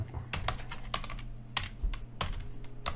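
Computer keyboard typing during Angular coding work: quick, irregular bursts of key clicks, close and fairly quiet, with short pauses between runs of keystrokes and no speech.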